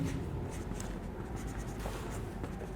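Pen scratching steadily on paper as a chemistry answer is written out, a continuous close scribbling texture with no talk.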